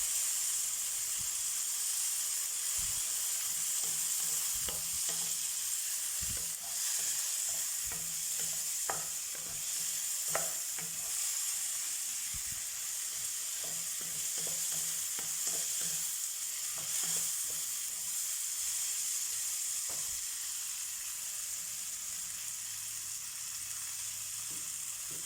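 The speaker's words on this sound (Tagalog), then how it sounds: "Haluin lang natin hanggang yung madurog yung kamatis." Tomatoes frying in a pan for ampalaya with egg, stirred steadily so a constant bright sizzle runs throughout, with scattered scraping clicks of the utensil against the pan and no talking.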